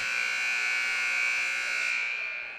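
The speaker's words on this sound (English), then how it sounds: "Gotta love that buzzer." A basketball buzzer sounds at a women's high school game, one steady, loud electronic drone held for over two seconds before trailing off at the end.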